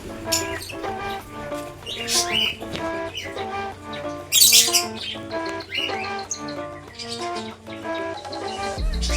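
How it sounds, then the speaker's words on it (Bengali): Lovebirds in an aviary at a park chirp and squawk in rapid overlapping bursts, close and fairly loud, with other birds calling nearby. "এটা লাভ বার্ড।"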